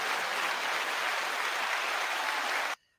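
A short burst of steady applause, a uniform hiss of many hands clapping at moderate level, cutting off abruptly near the end into silence.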